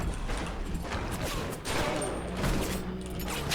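Rockets explode in the BioShock video game as a dense run of loud, overlapping blasts and crackling bursts, with no speech.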